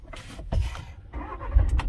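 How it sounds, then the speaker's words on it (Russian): A 2021 Volkswagen T6 is started with the key in the ignition: a short cranking whir followed by the engine catching, brief and fairly quiet, heard up close without talk. "машина заводится"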